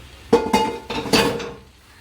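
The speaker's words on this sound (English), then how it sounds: "make sure you give it a good mix and make sure that the pasta absorbs all the sauce below." Spoon scraping and clinking against a pot while cheesy basil pasta is mixed into sauce, a few separate metallic knocks and clatters close by, with no talking.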